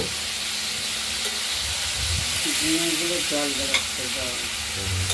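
Ridge gourd pieces fry in hot oil with a continuous loud sizzling hiss, close up, while a voice speaks faintly underneath partway through.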